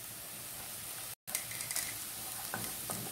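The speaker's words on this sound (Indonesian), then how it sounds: "Ini kita aduk terus ya. Bawangnya sampai ke coklat-coklatan." Onions fry with cardamom, cumin and cinnamon in a pan for Arabian almalaki rice, a steady close sizzle with a brief dropout and a few light stirring scrapes, no talking.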